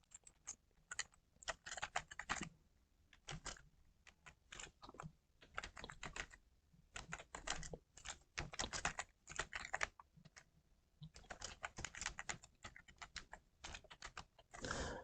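Fast typing on a computer keyboard while text is entered in Microsoft Word, with dense bursts of close, crisp key clicks separated by short pauses.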